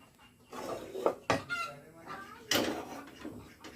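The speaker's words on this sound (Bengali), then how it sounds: "মুরগি চিৎকার দিচ্ছে কেন দেখে নিই" A chicken clucks and squawks in short agitated bursts near a kitchen, with a couple of sharp, louder cries, along with faint clattering of pots, close by and otherwise quiet.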